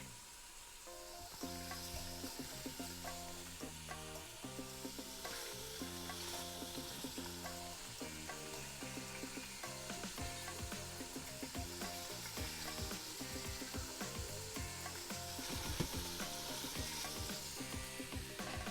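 Pork pieces for carnitas frying in a pan, a continuous dense sizzle running the whole length, moderately close and steady with occasional small crackles and stirring scrapes.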